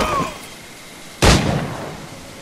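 A single sharp gunshot in Assassin's Creed IV Black Flag cracks out loud and close, its burst fading into a short tail after a quiet stretch of game ambience.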